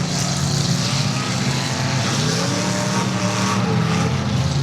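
Several demolition derby cars roar and rev continuously under a green flag in Ludington, Michigan, a steady loud motor drone with shifting pitch like vehicles racing around a track.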